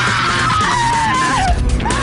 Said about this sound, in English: All I hear is this screaming black woman.